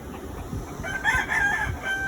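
Rooster crowing close by, a single loud, drawn-out cock-a-doodle-doo over faint background noise.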